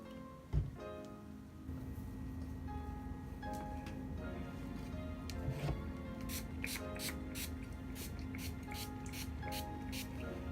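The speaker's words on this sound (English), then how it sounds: "you can spray it one more time with some water." Spray bottle misting water onto conditioned hair for a wet-look wig install, a run of quick, close spritzes in a rapid series near the end, following a softer spray earlier, with quiet background hum.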